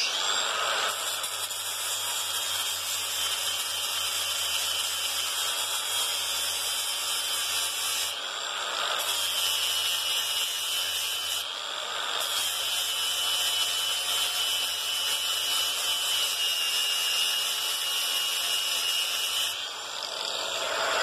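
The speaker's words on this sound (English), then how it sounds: "we're going to hit it with a 60 grit sanding flat wheel" A power tool grinds steadily and loudly for the whole stretch, its whine dipping briefly a couple of times as a 60-grit sanding flap wheel works the metal of an old sheet metal hammer.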